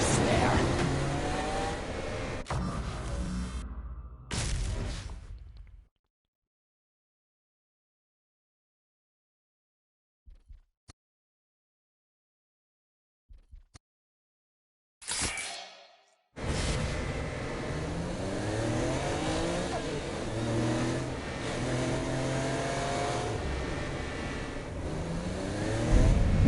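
A car driven in the Saints Row Gat Out of Hell video game, its engine droning and revving loudly in long stretches, broken by a few seconds of near silence and some short clicks.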